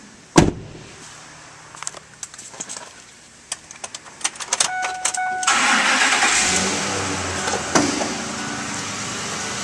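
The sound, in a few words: 2007 Ford F-150 truck engine starting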